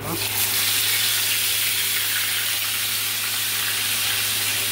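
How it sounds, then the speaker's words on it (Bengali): Bhetki fish frying in hot oil, a loud, steady broadband sizzle heard up close and continuing without a break throughout. "এখন আমি মাছটা তেলের ভিতরে ছেড়ে দিব।"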